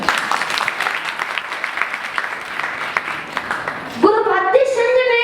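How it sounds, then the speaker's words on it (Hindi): Scattered clapping from an audience at a Jain nun's welcome ceremony in Ashok Nagar, Delhi, moderate and uneven, ending abruptly as a chanting voice begins. "एक बार तालियां बजाओ।"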